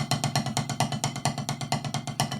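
Drumsticks play a fast rhythm of single and double strokes, with the doubles uneven and weaker than the singles, giving a quick, slightly lopsided patter of close, moderately quiet hits.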